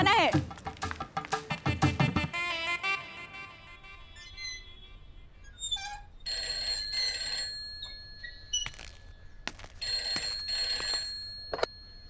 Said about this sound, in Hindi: तेरे सांभर अंकल के घर पे फोन करूंगी कि कब आना है।